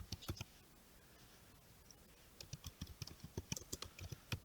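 Computer keyboard typing, faint and close, with a quick burst of keystrokes, a short pause, then a longer run of rapid clicking taps without talk.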